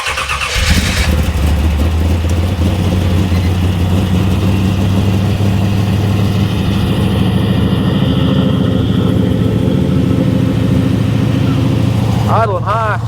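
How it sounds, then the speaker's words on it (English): A G-body car engine with a newly installed carburetor cranks and catches, then settles into a steady, fast idle that runs loudly and continuously to the end. "see if it'll start"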